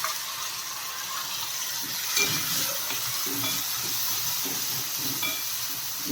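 Batter or rava for rava idli fries in a hot pan with a steady, close sizzle and hiss running throughout, with a few soft scraping stirs mixed in.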